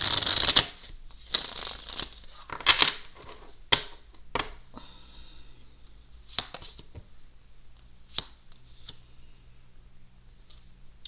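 Tarot cards being shuffled close up, a run of crisp riffling bursts and light flicks that thin out into a few soft taps, with no one speaking.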